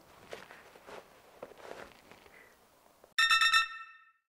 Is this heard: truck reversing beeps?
no